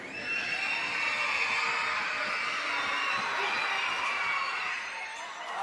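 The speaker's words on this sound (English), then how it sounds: "The crowd getting loud" A crowd at a BigV men's basketball game between Shepparton and Wyndham cheers and shouts loudly and steadily, a sustained roar of voices that eases slightly near the end.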